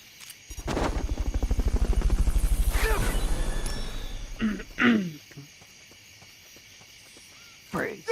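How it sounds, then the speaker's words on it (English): Helicopter from the video game Metal Gear Solid Peace Walker, a loud pulsing rotor drone lasting several seconds that then fades, followed by brief bursts of other game sounds. "Fulton recovery subject confirmed onboard helicopter."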